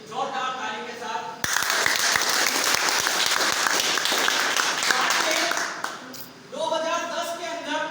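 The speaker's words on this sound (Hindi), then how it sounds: "जोरदार ताली के साथ" Audience at a college foundation day event breaks into loud, dense applause that cuts in abruptly after a man's speech, holds steady for several seconds, then fades as he resumes speaking.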